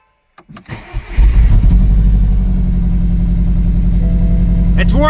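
A newly installed engine in a BMW Z4 e89 cranks briefly, catches and settles into a loud, steady idle with a rough, uneven pulse from misfiring; a short burst of voices cuts in near the end.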